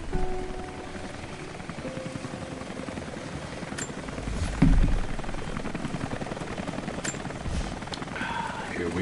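A helicopter hovers nearby in Rise of the Tomb Raider, its steady rotor rumble and thrum droning continuously at moderate loudness, with a brief louder swell midway.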